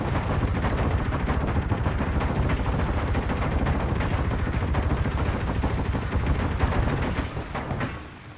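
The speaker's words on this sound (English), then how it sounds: "you guys are really shooting it up, aren't you?" Sustained gunfire in the underground survival game Helios, rapid overlapping shots forming a loud, dense barrage that runs nearly the whole time before trailing off at the end.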